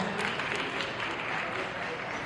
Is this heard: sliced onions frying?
no